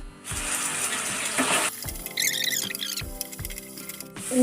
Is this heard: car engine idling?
no